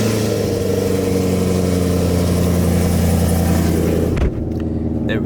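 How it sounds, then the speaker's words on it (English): A 2021 Camaro SS with headers, an X-pipe and the stock muffler rumbles loudly at a cold-start high idle, a steady deep burble that drops off sharply near the end. "this might as well be the last cold start of headers and X-pipe only with the stock muffler"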